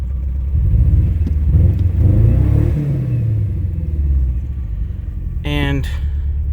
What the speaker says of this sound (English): So we're idling at normal RPMs.